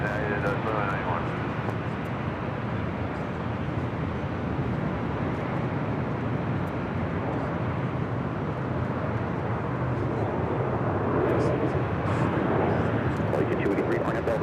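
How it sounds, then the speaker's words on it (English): An Aeromexico airliner taking off from runway 24 left, a steady distant engine roar that swells slightly toward the end, with someone speaking over it. "Air Mexico taking off, 24 left."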